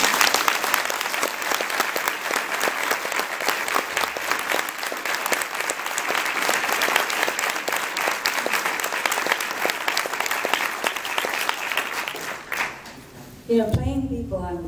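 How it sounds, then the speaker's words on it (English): A convention crowd at a comic con panel claps together in a long, even wash of applause that fades near the end, where a voice begins speaking. "let's all applaud."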